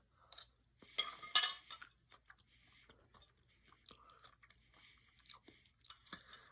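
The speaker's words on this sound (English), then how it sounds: "we'll take a bite out of this" Someone bites into a baked potato and chews at close range: a couple of louder crunchy bites early on, then quieter, scattered chewing with light clinks and pauses.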